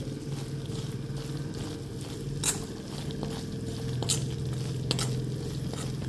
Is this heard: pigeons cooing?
no